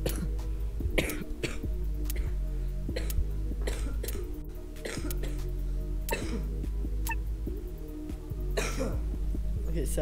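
A sick person coughing repeatedly during a basketball game commentary, several sharp, close coughs and throat clearings scattered over steady game background sound.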